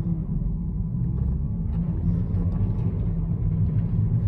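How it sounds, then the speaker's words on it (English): Inside a car driving on snow at about 23 miles per hour, a steady low road and engine rumble fills the cabin, with faint crunching texture and no talking. "Here we are, inside the vehicle, getting up to a speed of 23 miles per hour"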